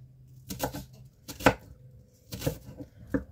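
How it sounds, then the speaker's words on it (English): Onions sliced very thin with a knife on a board before going into a cast iron pan for burgers: a few separated bursts of cutting and knocking strokes with pauses between, close and fairly quiet, no talk. "So I'm just going to cut these onions really thin."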